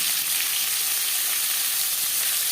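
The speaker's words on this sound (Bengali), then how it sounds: "পেঁয়াজ টমেটো ও রসুন হালকা করে ভেজে নেব" Onion, tomato and garlic fry in hot mustard oil with a bay leaf, making a loud, close, even sizzle that hisses without a break and has no voices over it.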